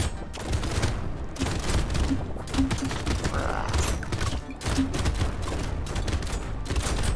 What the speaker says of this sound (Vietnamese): Rồi con này nó bắn ghê vậy